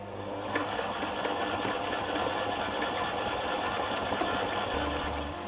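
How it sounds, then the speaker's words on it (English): Electric mixer running steadily on low speed, blending ricotta, cream cheese and sugar, a continuous close whirring motor hum with faint rhythmic chatter and no voices. "I'm going to put it on a low speed on my mixer just to combine everything."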